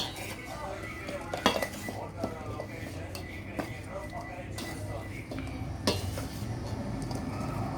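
Mango pickle (new avakaya) being mixed by hand in a metal vessel: repeated clinks and scraping of metal against metal, close and fairly loud, with a few sharper knocks, while people talk in the background.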